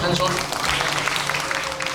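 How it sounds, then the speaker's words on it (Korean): A civic town-hall audience in Sejong claps together in a dense, continuous wash of applause, steady and fairly loud throughout, with some voices mixed in. "잠깐 박수 소리 들어볼까?"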